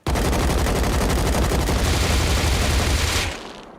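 Extremely rapid, unbroken automatic gunfire from the Rust video game with a fast-fire hack, a dense roaring stream of shots that cuts off near the end.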